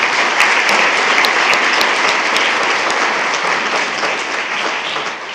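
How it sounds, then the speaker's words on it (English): Loud, dense audience applause fills a school board meeting room, sustained evenly for several seconds and slowly tapering at the end, with no voices over it. "A round of applause, please."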